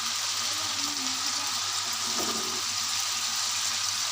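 Tomatoes go into a Peshawari charsi chicken karahi, which gives a loud, steady, hissing sizzle that fills the whole stretch without break, close by and with no talking.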